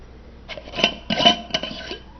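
A jar's lid is twisted off in several short scraping, grinding turns, with close rubbing sounds in a quiet room.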